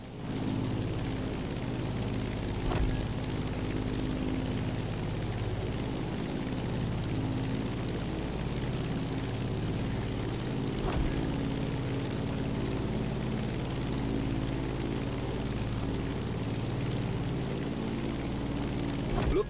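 Propeller airplane engine climbing in The Crew Motorfest, a steady, loud droning hum with a low rumble that holds throughout, with no talking.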